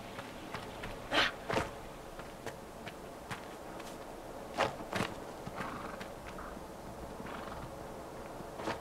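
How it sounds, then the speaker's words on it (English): A horse in the video game Dragon Age: Inquisition clip-clops along with a few scattered hoofbeats and a couple of snorts or whinnies, set against a steady game-world ambience. "There's a horse."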